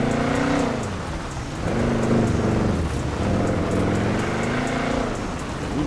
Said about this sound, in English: still raining kind of hard out here too.